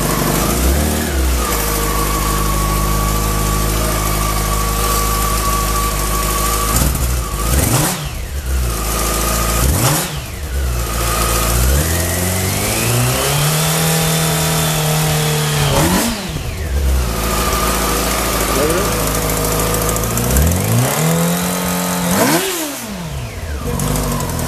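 The engine of a wrecked 2008 Yamaha R6S sport bike with about 2,700 miles idles loud and close, punctuated by several sharp revs that climb and fall back, repeating through the run with no talk.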